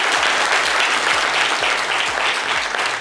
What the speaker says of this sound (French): Applaudissez-les bien fort.